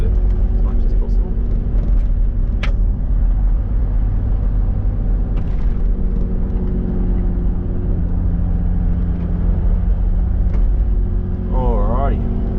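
Toyota 80 Series 4WD rolls along a gravel track through Wilga State Forest in South West WA, a steady low engine rumble with road noise throughout, loud and close, with a few light knocks and a voice speaking over it.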